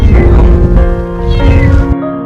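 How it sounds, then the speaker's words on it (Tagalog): A cat trapped inside a drainage pipe meows loudly and continuously in drawn-out, pleading cries, close and echoing, with no voices. "At nadiskubre na nga niya na ito ay isang pusa na natrap sa loob ng drainage."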